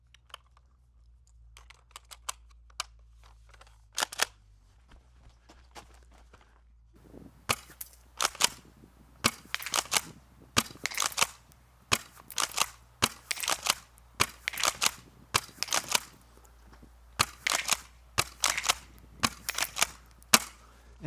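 An airsoft pump shotgun, a Battlefield 6 replica, fires repeatedly, giving sharp snapping cracks with pump clacks between, irregular at first and then in a steady run of about a dozen shots over a low hum, with no talking.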